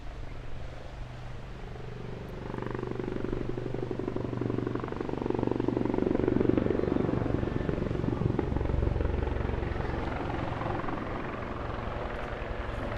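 Royal Navy helicopter hovering at a seaside airshow, its rotor drone loud and steady throughout, swelling slightly in the middle as it comes nearer, with a continuous low throb and no talk over it.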